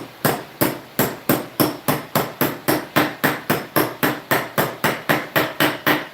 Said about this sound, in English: With a little brass hammer.